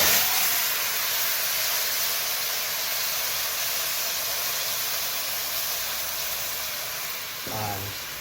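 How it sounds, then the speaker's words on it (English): Meat hits a hot pan for Trinidad stewed chicken, giving a loud, steady, broadband sizzling hiss that fills the whole stretch and fades slightly toward the end, with a brief voice near the close. "This is where you throw in your meat."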